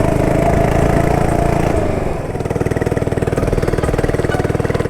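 A mini bike engine runs wide open, a loud, close buzz that drops partway through into a rapid, throbbing pulse, no voices.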